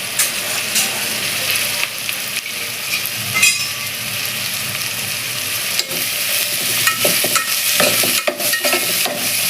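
Sliced onion sizzles and crackles steadily in a generous pool of hot oil, with frequent scraping stirs and light clinks from a utensil, close and continuous with no talking.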